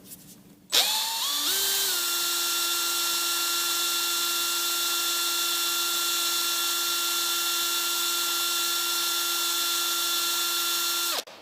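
A unibit step drill bit spins up with a rising whine, then holds a steady loud tonal drone for about ten seconds while drilling slowly, stopping abruptly at the end.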